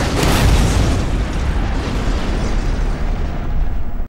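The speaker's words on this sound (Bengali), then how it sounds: "তখন একটি ব্লাস্ট হয়।" A loud, sustained explosion from the Korean film The Witness (2018) roars with a dense, rumbling blast that fills the whole moment.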